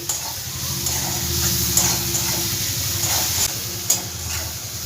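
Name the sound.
frying chopped ginger and chillies for Bengali fish oil chorchori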